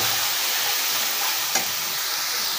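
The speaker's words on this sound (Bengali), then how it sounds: "মশলাগুলো আমি খুব ভালোভাবে নেড়ে চেড়ে এভাবে মিশিয়ে দিচ্ছি" Cumin and chili paste sizzle in a hot frying pan as it is stirred, a loud, continuous crackling hiss with one brief scrape of the spoon partway through.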